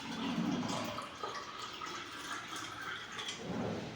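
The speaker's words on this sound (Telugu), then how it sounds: "ఇప్పుడు మనం ఈ యొక్క వేడి అయిన వాటర్ని ఒక కప్లో పోసుకోవాలండి" Hot water poured into a 100 ml cup makes a steady, continuous splashing trickle that runs the whole time at moderate level, with no voices.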